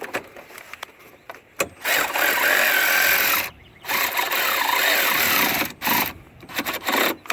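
A tool works on the bolts of the engine cooling fan shroud on a 2008 Ford Edge, giving long, loud grinding bursts broken by short pauses, close by.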